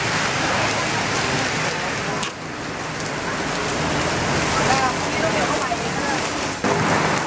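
Heavy rain pours steadily on surfaces nearby, a dense hiss with a brief dip partway through and faint sounds under it.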